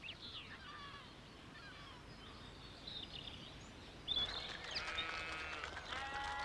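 Highland sheep bleat in the Scottish countryside on the Isle of Mull, a few faint calls at first, then louder, closer bleating in the second half over steady outdoor noise.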